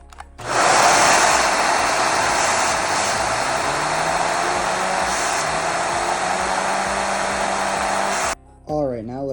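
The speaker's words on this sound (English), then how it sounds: "Here is my Lego vacuum engine. Now let's give it a test." A Lego vacuum engine with a glued rotor runs on low power, a loud steady whirring hiss with a droning hum that holds for several seconds before cutting out briefly near the end.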